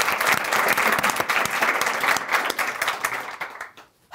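Sustained audience applause at a talk show, a dense wash of clapping that holds steady and then tapers off abruptly near the end.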